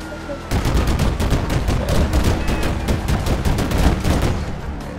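Rapid bursts of automatic gunfire in a GTA RP street shootout, loud and close, with dozens of sharp shots firing in a dense, continuous volley for several seconds.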